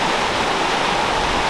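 A waterfall rushing, a loud, steady broadband roar of falling water with no breaks, heard alone.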